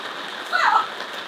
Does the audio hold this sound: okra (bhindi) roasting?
no